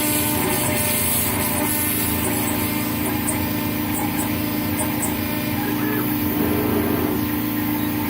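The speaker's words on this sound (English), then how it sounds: "we're milling plastic right now" A CNC router whirs steadily while milling acrylic, a continuous mechanical hum with faint high whines and cutting noise, no talking.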